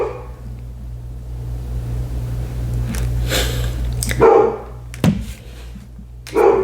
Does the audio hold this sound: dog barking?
yes